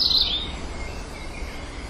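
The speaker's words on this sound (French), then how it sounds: "des petits oiseaux très chanteurs" Small songbirds singing in a park, with a bright high chirp at the start and fainter twittering over a steady low rumble of background noise, no voices.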